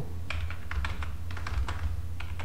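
Computer keyboard typing while text is entered in a WordPress theme editor: quick clusters of light key clicks in short bursts with brief pauses, close and steady over a low background hum, with no talking.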